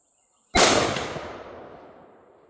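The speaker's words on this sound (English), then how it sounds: "Well, he shot." A single loud rifle shot fired while sighting in at 100 yards outdoors, a sharp crack followed by a long rolling echo that fades away.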